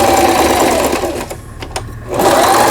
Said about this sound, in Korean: 지그잭 바느질을 해보겠습니다.